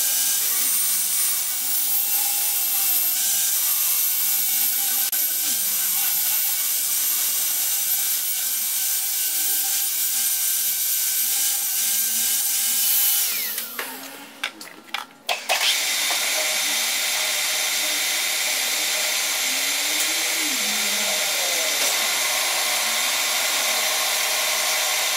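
A metal lathe turning a stainless steel bushing for a dough-mixer shaft, a loud continuous machining whine with a short break partway through before the cut resumes.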